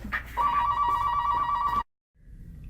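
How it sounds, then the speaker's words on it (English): A telephone rings with a steady electronic trill for almost two seconds, loud and close indoors, then cuts off abruptly, leaving faint room noise. "I would cut out the phone ringing"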